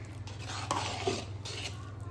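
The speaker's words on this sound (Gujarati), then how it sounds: "બધી ખીચડીને આપણે મસાલા જોડે સારી રીતે મિક્સ કરવી પડશે." A pot of khichdi being stirred to mix in the spices, a spoon scraping and clinking against the metal in a few soft strokes over a low steady hum, with no voices.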